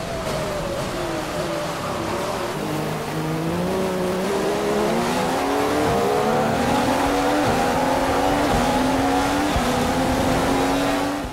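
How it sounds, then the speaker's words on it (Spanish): Formula 1 race car in the F1 2015 video game on the Austrian Grand Prix circuit at Spielberg, engine whining and climbing in pitch as the tyres slide and skid, loud and continuous throughout with no talking. "Wow, cómo me derrapa el coche."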